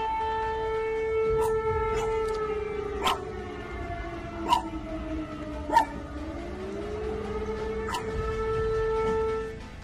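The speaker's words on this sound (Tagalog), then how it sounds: "Umuugong na naman ang mga sirena sa Poland dahil sa isang pag-atake ng Russia." Air raid sirens in Poland hold a long, steady wail that dips slightly and rises again, moderately distant and continuous, while sharp intermittent knocks or barks punctuate the background.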